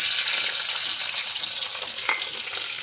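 Green chilies, onion and garlic fry in hot oil on a stove, giving a steady, close, loud sizzle with crackling and spattering throughout and no talk.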